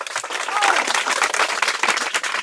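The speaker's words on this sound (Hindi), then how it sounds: "ताली बजाइए इनके लिए" A crowd at a public rally about children's schooling claps loudly in a thick burst of many hands, with voices mixed in over the clapping.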